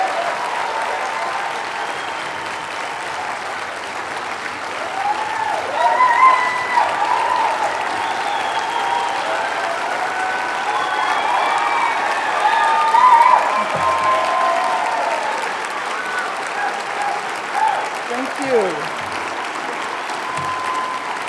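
An audience claps continuously to welcome Angela Davis onto the stage at a talk, with steady, full applause lasting the whole time and a few faint cheers rising in the middle.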